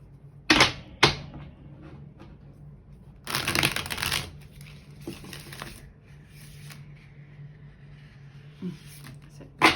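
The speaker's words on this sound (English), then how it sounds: "One more good shuffle." Tarot cards are shuffled in quick riffling bursts, a couple of short snaps followed by a longer flurry, close by with quiet pauses between.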